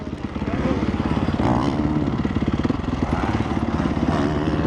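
A 2004 Honda CRF450 dirt bike engine runs nearby with a steady, chugging, pulsing idle that rises slightly now and then, while people talk over it.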